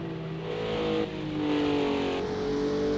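A Porsche GT3 race car in a racing video game revs its engine with a steady, moderately loud whine, climbing through upshifts on the circuit at Oulton Park.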